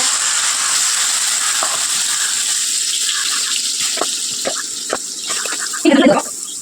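Marinated soya chunks (meal maker) frying in hot oil for biryani, a steady close sizzle with a few stirring clatters and a louder splash of activity near the end.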